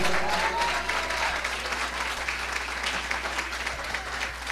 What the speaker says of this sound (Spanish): Vamos a brindarle fuertes palmas a Memo Feria.